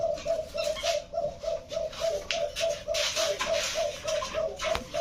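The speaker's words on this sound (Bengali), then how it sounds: "কবুতর চারটা দেখান কবুতরগুলো একটু দেখাই" Several domestic pigeons coo close by, a steady run of soft, repeated throaty coos over faint background rustling.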